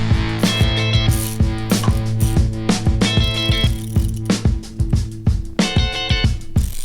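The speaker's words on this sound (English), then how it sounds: "I'm going to snug these up together, and then we're going to use the torque wrench" Rapid ratchet clicks in quick bursts, close and loud, with no talk, as 8mm triple-square bolts are snugged on a Porsche 914 axle and CV joint.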